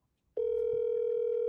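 Telephone ring tone on an outgoing call, a single steady electronic tone that starts abruptly after a brief silence and holds unbroken, fairly faint and close.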